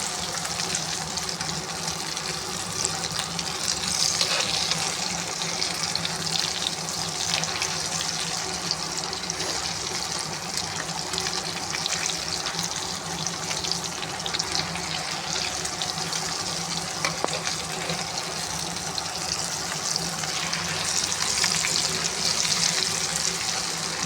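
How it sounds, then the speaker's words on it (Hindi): Aloo matar tikki (vegetable kababs) frying in a pan, with some egg spooned over them, a continuous loud sizzle and bubbling hiss that carries on steadily for a long stretch, with no voices. "देखिए मेरे फ्राई हो रही है कितनी।"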